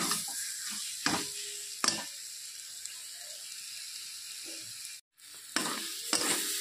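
Masala and tomato fry in a pan for a katla fish curry, with a steady soft sizzle. A spoon scrapes and stirs the pan every so often, and there is a brief pause near the end.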